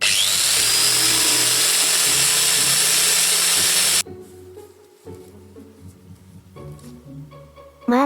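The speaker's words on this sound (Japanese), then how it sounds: "研磨剤とディスクグラインダーで磨いてみましょう。" A disc grinder polishes a brass peacock-style fireplace screen with abrasive, giving a loud, steady high whine for about four seconds before stopping. Quieter clatter and handling sounds follow.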